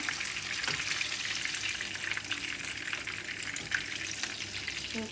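Chicken pieces fry until crispy in hot oil that is not coconut oil, a steady dense sizzle with crackling pops running continuously, close up and without talking.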